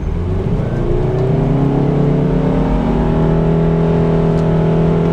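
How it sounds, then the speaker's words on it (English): Car engine with a CVT held at full throttle after a throttle body cleaning, a loud steady high rev with rising whining tones, close and continuous throughout. "I'm gonna floor it."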